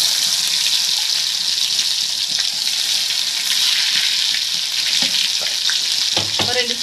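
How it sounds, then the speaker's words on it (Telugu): Fresh ginger garlic paste sizzles loudly in hot oil, a bright continuous crackling fry close by, with a few knocks of a spoon against the pan near the end. "ఆ ఆయిల్లో అల్లం వెల్లుల్లి పేస్ట్ వేసుకోవాలండి"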